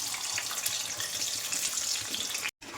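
Chopped plantain (ethakka) slices fry in hot coconut oil, a dense, steady sizzle and crackle that fills the whole stretch at moderate volume, briefly cutting out near the end.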